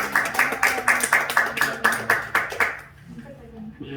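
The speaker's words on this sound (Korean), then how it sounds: "말씀을 주신 하나님께 박수로 해요" A church congregation at a New Year's Eve service claps in a quick, even rhythm for about three seconds, roughly a dozen loud beats, before the clapping stops and the room goes quiet.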